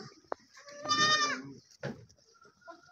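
Goats on a farm bleat close by, one long wavering call followed by shorter bleats and some quieter rustling.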